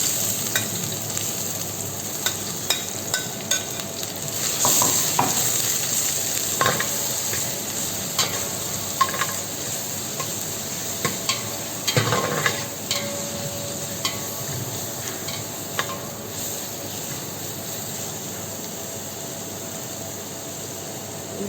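Onions sautéing in hot oil with a bay leaf for a Punjabi dish, a steady broadband sizzle throughout with intermittent sharp scrapes and clinks of a spoon stirring the pan, close and fairly loud, no talking.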